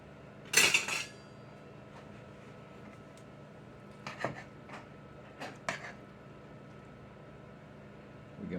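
A spoon being picked out from among cutlery and dishes in a kitchen, a bright metallic clatter near the start followed by a few lighter clinks and taps, with quiet room noise between.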